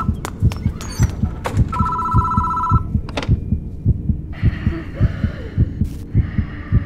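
A telephone rings once as a steady electronic tone in the horror video game Spirit Hunter: Death Mark, over a constant pounding heartbeat-like throb, with no talking.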